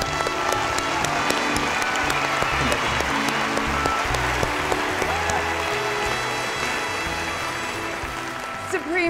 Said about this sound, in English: let's give our 6 charities and special guest presenters a round of applause